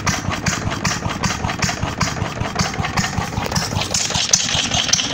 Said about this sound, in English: that's how you start a PB8 3 horsepower